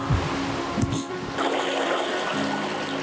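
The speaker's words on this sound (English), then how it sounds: "Whenever the creek gets congested, the water flow increases." A congested creek pours with a steady gushing rush of flowing water, loud and close, with a brief rustle partway through.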